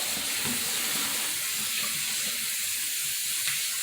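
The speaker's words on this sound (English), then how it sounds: "Take some fresh water, rinse your rag out." A cleaning rag is rinsed in fresh water: steady splashing and running water with soft sloshing pulses, close and continuous, without any talking.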